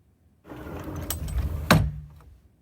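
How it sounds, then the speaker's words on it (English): A van's sliding door rolls open in a radio play sound effect, a long rumbling slide ending in a sharp clunk as the door latches, heard alone with no talk. "The van's door slid open, something like the door to a shop."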